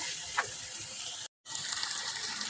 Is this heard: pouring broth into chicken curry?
yes